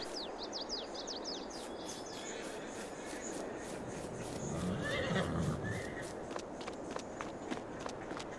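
A horse whinnies in a stable in the Farming Simulator 22 video game, with thin high calls near the start over steady hoof steps and ambient background, plus faint bird chirps.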